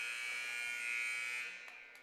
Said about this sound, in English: the buzzer's going to sound here